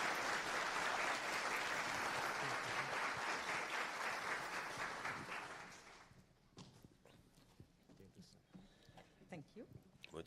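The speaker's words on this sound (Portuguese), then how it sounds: "Uma salva de palmas para ela." Loud crowd applause for an opening keynote speaker fills the first six seconds, then fades out as a voice begins speaking in Portuguese.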